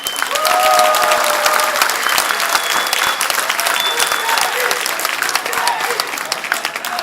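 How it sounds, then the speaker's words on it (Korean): Audience at a party rally speech in Daejeon applauding in encouragement, a steady, loud wash of many hands clapping that holds throughout, with faint crowd voices mixed in. "우리가 끝까지 함께하겠다는 큰 격려의 박수 다시 한번 부탁드립니다."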